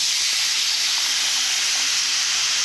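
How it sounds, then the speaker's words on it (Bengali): Water poured into a hot pan while cooking vegetarian ghugni gives a steady, loud hiss of steam and sizzling that holds evenly throughout, with no talk. "এবার জল দেব"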